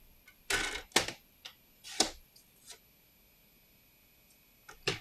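Cardstock being trimmed on a paper cutter for a handmade card: a handful of sharp, quiet clicks and slicing snaps spaced irregularly over near silence.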